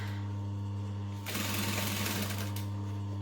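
A sewing machine runs in one steady stitching burst of a little over a second while it sews up a side seam, set against a constant low electrical hum in a quiet room.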